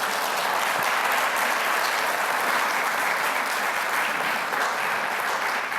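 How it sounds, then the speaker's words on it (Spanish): Loud, sustained applause from a church congregation during a Spanish-language sermon, a dense, even clatter of many hands clapping continuously without pause. "Dele un fuerte aplauso"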